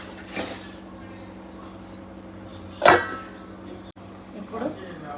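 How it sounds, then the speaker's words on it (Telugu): A metal pot lid set onto a cooking pot while making Bambino vermicelli on a low flame, one sharp clanking clatter near the middle with a softer knock before and a faint clink after, over steady kitchen hum. "ఒకసారి కలుపుకొని లో ఫ్లేమ్లో మూత పెట్టేసుకుందాం."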